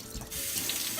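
Cold water runs from a tap into a sink in a short, steady stream, close and fairly quiet, with no talking.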